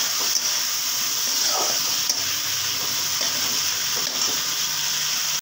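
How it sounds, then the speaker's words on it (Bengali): Broth poured into a simmering kofta curry with potatoes, heard as a soft watery splash and gentle bubbling over a steady background hiss, without talk. "দিয়ে দিচ্ছি একটুখানি ঝোল"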